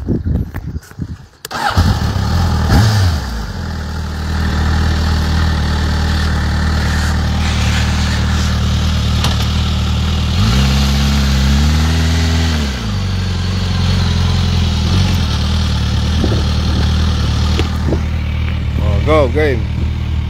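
A motorcycle engine idles steadily throughout, with a brief revving swell midway and a voice speaking over it.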